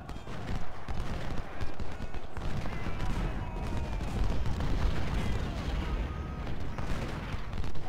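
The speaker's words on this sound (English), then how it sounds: "that gun is shooting me" Artillery cannon fire from the Civil War video game Ultimate General booms amid a continuous din of battle, with scattered musket-like cracks layered over a dense rumbling background.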